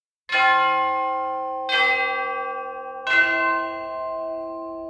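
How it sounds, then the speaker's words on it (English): Sampled orchestral bells from Red Room Audio's Palette Symphonic Sketchpad library, with three separate clear chimes struck about 1.4 seconds apart, each ringing bright and loud and then decaying slowly into a long sustained tail. "let's listen to two bells"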